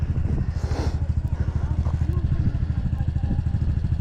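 A dirt bike engine idles and burbles nearby as it pulls up at the Croom Motorcycle Area, a steady, pulsing low rumble that carries on throughout with slight rises in revs.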